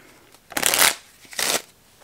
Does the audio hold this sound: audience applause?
no